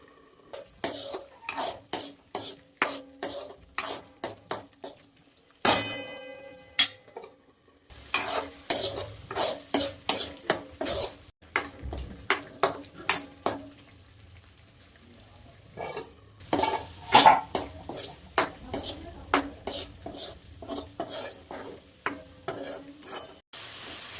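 Masala for a pea and potato curry sizzles in a pan while a spoon scrapes and clatters against the metal in quick repeated strokes, with brief pauses between bursts of stirring.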